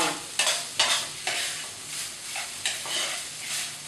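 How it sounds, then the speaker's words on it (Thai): American fried rice is stir-fried in a pan with repeated spatula scrapes in uneven strokes over a steady sizzle, heard close and alone. "แล้วเราก็ผัดต่อนะคะ"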